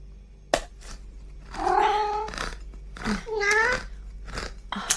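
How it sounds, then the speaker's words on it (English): A cat meows twice in a tonal, wavering cry, fairly close and clear, with a short sharp knock before the first call and a low steady hum beneath. "Can someone feed the cat?"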